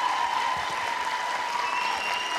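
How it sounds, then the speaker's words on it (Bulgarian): A talent-show audience applauds a trio's cover of a song, a continuous, dense roar of clapping from a large crowd with a faint steady tone ringing beneath it. "Аплодисменти"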